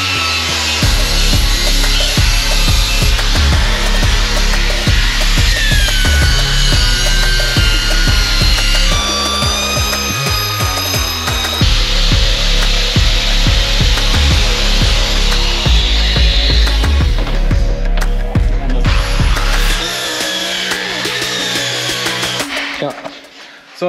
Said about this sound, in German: jetzt haben wir die Schweißnähte poliert